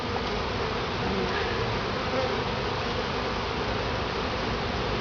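A dense, continuous buzzing hum of many honey bees swarming close by at a top bar hive during a honey harvest, steady and unbroken throughout.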